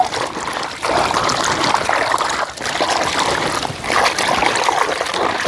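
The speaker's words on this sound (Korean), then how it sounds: "마지막으로 한 번 더 깨끗이 총 세 번을 헹궈줬어요" Running water rinses freshly harvested chili peppers washed with flour, a continuous close splashing trickle with brief dips as the peppers are moved about, no talking.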